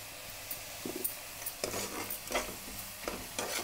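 Curry leaves, dried red chillies, peanuts and asafoetida stirred in a hot pan, with a steady sizzle and repeated scraping strokes of a spoon against the metal, close and continuous with no talking.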